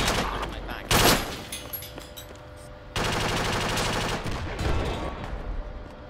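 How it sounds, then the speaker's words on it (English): Heavy gunfire booms in a military shooter game, with a loud close blast and then dense sustained volleys and rattling shots over several seconds amid busy battlefield noise. "we just got shotgun blasted"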